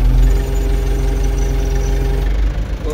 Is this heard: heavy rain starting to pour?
no